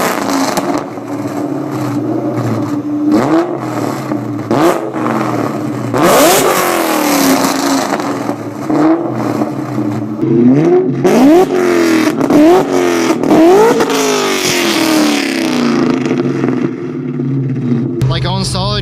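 A 2003 Terminator Cobra with a Borla Atak exhaust revs repeatedly, sharp throttle blips rising and falling over a rumbling idle, loud and close, with a voice talking over parts of it.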